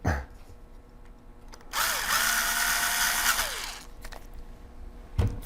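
A small power screwdriver drives screws into the mounting brackets of a laptop hard drive, a single steady whirring run of about two seconds close up, framed by light clicks and handling noises and no talk.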